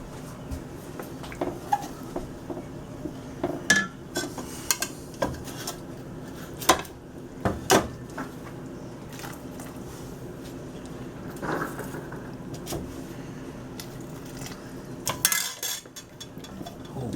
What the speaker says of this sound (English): I'm going to start ladling over some of that liquid into that, and I'm going to keep stirring it